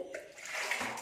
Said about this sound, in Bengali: জল ঘাঁটতে যে কি ভালোবাসে